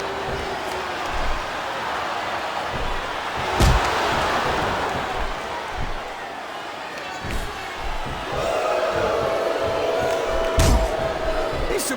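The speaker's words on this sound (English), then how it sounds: "Superstars are beating the heck out of each other, and this crowd can't get enough of it." Crowd in a WWE wrestling arena at Unforgiven 2006 during a Jeff Hardy versus Johnny Nitro match, a steady roar of cheering broken by sharp slams of bodies on the ring canvas, with commentators talking over it.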